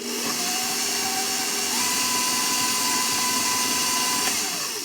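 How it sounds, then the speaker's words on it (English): An electric mixer runs on high speed creaming cold butter and sugar, a loud continuous whirring motor drone that holds steady throughout. "that is the quickest way to cream butter and sugar together"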